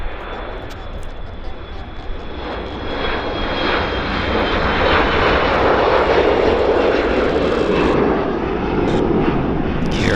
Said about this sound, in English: we got another Dash 8 charter machine taxiing into position there at the bottom of the runway